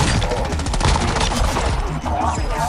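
Rapid, dense bursts of automatic gunfire with sharp cracks and booms fill a shooter video game match, loud and continuous across the whole stretch, with players' voices underneath.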